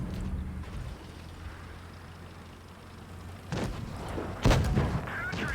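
Tank cannon fire in World of Tanks Blitz during a match, a Sheridan light tank in play: a low rumbling engine bed, then two sharp booming shots around the midpoint and near the end, the second louder and closer.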